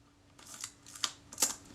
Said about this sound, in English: the film advance mechanism is certainly happier when the shutter release is held in its normal position